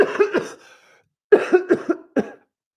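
A person coughs in two bursts, first three harsh coughs, then after a short pause a louder cluster of four more, close and alone with no talk.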